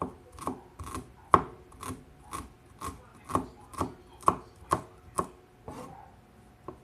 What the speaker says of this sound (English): I'm just gonna mince it up a bit